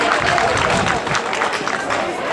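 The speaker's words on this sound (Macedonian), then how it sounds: "Аплауз за третото место според гласови." A concert audience at a folk song contest claps for a third-place result, a dense wash of applause from a crowd with some murmuring voices mixed in.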